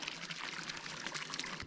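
Water running from an open tap fed by a year-round spring-filled tank on a farm in Central Portugal, a steady splashing, bright pour close by with no pauses.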